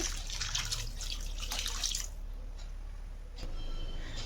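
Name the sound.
adding water to tamarind juice in a clay pot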